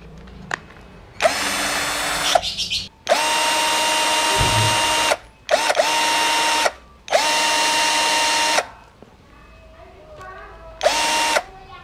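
A power drill backs a screw out of wood in several loud, steady whirring bursts separated by short pauses, with the motor pitch holding even during each run.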